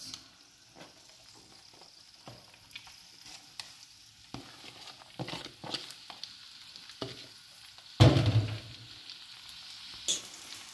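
A 400-gram batch of minced meat frying with onions, salt and pepper, heard as a quiet sizzle under intermittent stirring scrapes, with one sharp clatter near the end.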